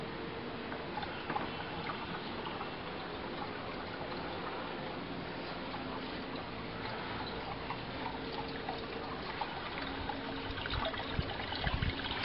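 Water pours steadily into a coagulation and flocculation tank at a water treatment plant after a valve is opened. It makes a constant, even rushing flow from start to finish, fairly quiet and with no voices.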